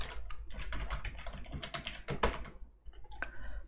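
Keys on a computer keyboard are typed during a programming lesson. Dense, close bursts of rapid clicking run almost without pause, then briefly stop before a few more keystrokes.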